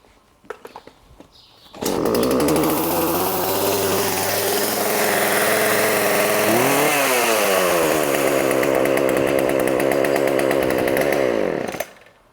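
A chainsaw starts up and runs loud and close for about ten seconds, revving briefly midway, then cuts off abruptly.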